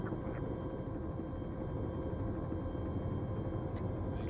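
A video game helicopter from the Lost Odyssey mission Operation Thin Ice gives a constant, fairly faint rotor and engine drone with no clear breaks. No one talks.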